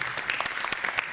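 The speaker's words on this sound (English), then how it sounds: "Round of applause." Audience applause at an arts-activism event honoring Lorraine Hansberry, a dense even patter of many hands clapping, moderately distant.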